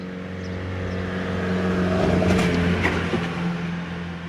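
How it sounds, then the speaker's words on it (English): Busy morning road traffic heard from a front garden, a continuous rumbling wash of passing cars that swells slightly in the middle, steady and moderately loud with no talk. "Such a busy morning with traffic today."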